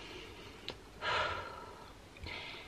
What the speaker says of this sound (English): So we're going to take a few deep breaths together now.